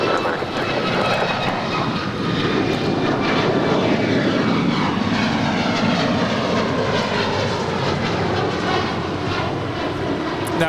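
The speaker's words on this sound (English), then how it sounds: "That was United 2039 departing to Chicago, a 3-year-old 737 MAX 9" A three-year-old United Airlines Boeing 737 MAX 9 departs Los Angeles LAX for Chicago, its loud broadband jet roar sustained and steady throughout with a slowly sweeping tone, no voices present.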